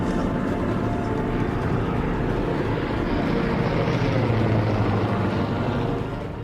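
A search plane flies overhead, its propeller engine droning steadily and fairly loud for several seconds, swelling slightly as it passes, with no speech.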